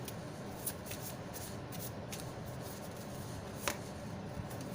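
Tarot cards are shuffled continuously and close by, a dense papery riffling with a few sharper slaps and no voices.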